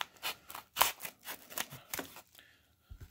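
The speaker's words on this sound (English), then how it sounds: "So just easily just cut the top off this here," Scissors snipping through the top of a padded bubble wrap mailer, a run of quick crisp cuts close by with short pauses between them.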